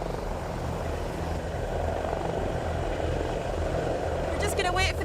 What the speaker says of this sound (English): We're just going to wait for the helicopter to take off